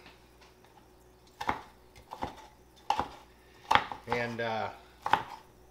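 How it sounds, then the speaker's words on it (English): Chicken is cut into bite-sized pieces on a board, sharp knife chops landing one at a time in an uneven rhythm, close and clear, with a brief voice between strokes. "cut it into smaller, you know, bite-sized pieces"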